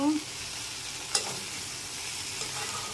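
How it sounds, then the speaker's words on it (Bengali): A low, even sizzle of bitter gourd frying in a pan, with one brief clink partway through and no voices. "এই যে আমার করলা ভাজা প্রায় তৈরি হয়ে গেছে, আর একটু ভাজা ভাজা হলেই তুলে নেব।"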